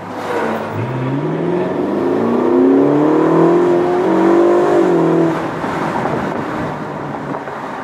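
Ferrari California T accelerating, a loud close engine roar rising steadily in pitch over several seconds, then easing off amid wind noise.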